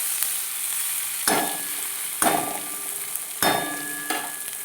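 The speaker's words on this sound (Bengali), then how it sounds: "নেড়ে চেড়ে নেব" Green chili paste and pumpkin are stirred in a frying pan with a steady sizzle, and about four distinct scraping strokes of the spatula come in a loose rhythm, close and fairly loud.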